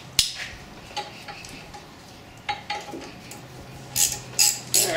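Ratchet clicking while loosening a brake caliper bolt on a 2011 Cadillac SRX, a few short metallic bursts with pauses between, close and alone, louder toward the end.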